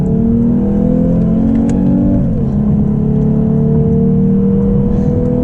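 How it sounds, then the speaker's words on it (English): A 2022 Lexus RC350 F Sport in manual paddle-shift mode accelerating hard on a highway, its engine note climbing steadily, dipping at an upshift around two seconds, then rising again, loud and continuous with no talking. "we'll do an acceleration on the highway"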